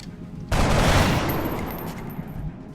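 A soldier's rifle shot in the turn-based game XCOM: Long War, one sudden loud burst of gunfire that fades into a rattling tail over faint game ambience.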